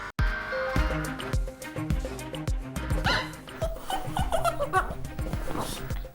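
A dog barks and yips repeatedly in quick bursts amid a busy mix of music-like tones and laughter, moderately loud throughout.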